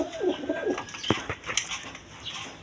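A U-shaped pair of Lahori pigeons cooing nearby in soft, low bursts. Sharp clicks and a brief flutter break in among the calls.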